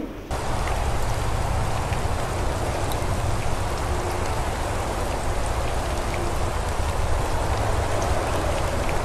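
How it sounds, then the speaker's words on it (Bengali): Heavy rain pours down outdoors in a dense, steady roar that stays loud and unbroken throughout, with no voices over it. "বাহিরে কিন্তু মুষলধারে বৃষ্টি শুরু হয়ে গেছে"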